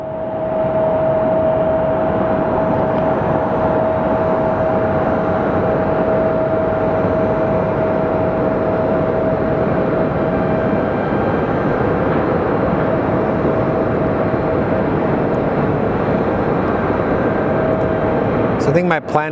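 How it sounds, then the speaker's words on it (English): Southwest airliner arriving from Honolulu and landing at Phoenix Sky Harbor Airport, a continuous loud jet roar with a steady whine for most of the stretch, and a voice talking throughout. "Then our Southwest from Honolulu is going to land south"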